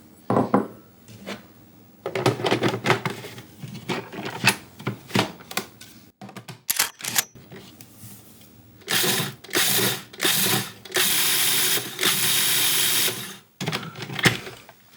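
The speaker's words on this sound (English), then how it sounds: "I'm going to get started by pulsing these oats just a little bit so they're not quite so coarse." A food processor pulses oats in short bursts, a stop-start whirring and rattling of grains against the bowl that grows into longer loud runs before cutting off.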